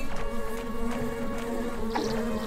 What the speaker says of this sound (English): These bees are getting on my nerves.